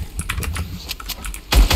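Fast computer keyboard typing during a game, a close and loud run of irregular key clicks with a heavier thump of keys at the end.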